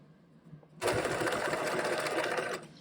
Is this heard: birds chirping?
no